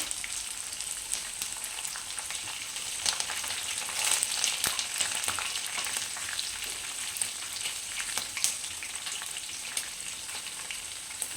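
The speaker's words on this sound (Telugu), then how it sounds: "ఆనియన్ బాగా ఫ్రై అయ్యాయి కదండి" Onions, curry leaves and green chillies frying in oil for upma, a steady close sizzle with faint crackles throughout and no voices.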